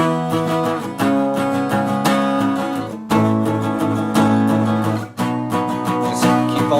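Guitar strumming power chords through the verse of a song, with the sixth string muted and the strings struck straight through. It is loud and close, a steady rhythmic pattern of ringing chords with brief gaps between phrases.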